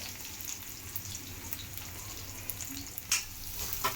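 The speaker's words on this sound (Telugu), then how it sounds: "బ్రౌన్ కలర్ వచ్చేంత వరకు వేయించుకోవాలి." Onions and green chillies frying in hot oil with mustard seeds and cumin, a steady soft sizzle close by, with a few sharper crackles and spatters toward the end.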